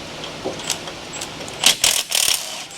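A ratchet works loose the 13 mm bolts holding the oil pickup tube on a Jeep 3.7 engine, with close, loud bursts of clicking from the pawl and some softer clicks before them.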